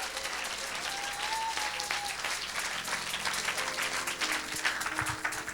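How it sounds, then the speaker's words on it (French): A church congregation breaks into sustained applause mixed with cheering, a dense, steady wash of clapping that holds at an even level from start to finish, with no clear voices standing out. "Tu peux acclamer mieux que ça."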